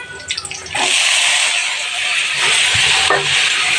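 Vegetables tossed with salt, turmeric and sugar hit a hot pan of frying onion, setting off a loud, steady sizzle and hiss after a few brief clatters, with stirring scrapes through it.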